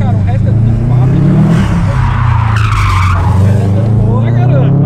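A Subaru WRX STI revs hard and its tires squeal under acceleration, a loud close engine drone with screeching skids rising and falling across the whole stretch.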